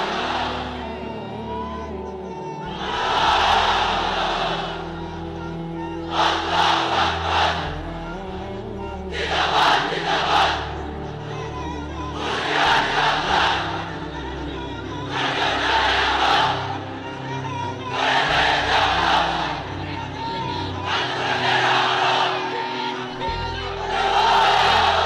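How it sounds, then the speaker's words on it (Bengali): A large crowd in a pandal shouting a takbir chant together, with loud roaring bursts repeating every few seconds over a steady background hum. "এবার সবাই মিলে 3টা, এক একটা তাকবীরে যাতে এই প্যান্ডেল কেঁপে ওঠে।"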